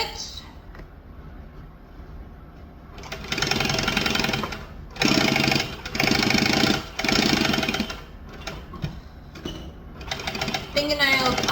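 A sewing machine top stitches fabric in several loud bursts of rapid mechanical whirring, separated by pauses, alongside a person talking nearby.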